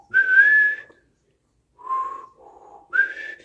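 A bird's soft, pure whistles: a sustained note, a pause, then a lower two-part whistle and another rising note, close and gentle.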